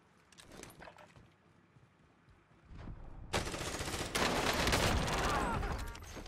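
Automatic gunfire from the video game Warzone, sparse at first and then erupting into loud, dense bursts over the final three seconds.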